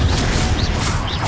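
Confringo fire spell cast in the video game Hogwarts Legacy, a loud dense burst of crackling, rumbling noise lasting the whole moment with faint swishing tones, no speech.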